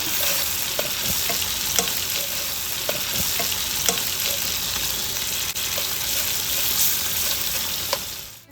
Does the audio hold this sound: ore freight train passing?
no